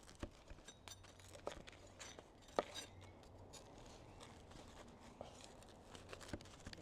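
A knife chops through lemon zest on a cutting board, cutting it into strips, for a homemade taramasalata; faint, irregular knocks and taps spread through a quiet room, with one sharper hit near the middle.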